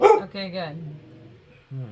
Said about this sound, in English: Sorry about the dog barking.